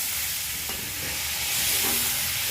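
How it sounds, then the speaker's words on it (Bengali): Okra, cooked with potato, being stir-fried in a pan, producing a constant close hiss of sizzling oil with faint stirring scrapes underneath. "এবার হালকা হালকা নেড়ে নেব, আস্তে আস্তে করে ভেজে নেব"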